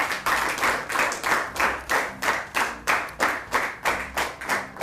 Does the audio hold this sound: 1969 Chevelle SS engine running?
no